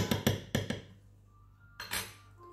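Sugar and cornstarch mixed in a pot, several quick metallic clinks and scrapes of a utensil against the pot, a pause, then another short burst of clattering.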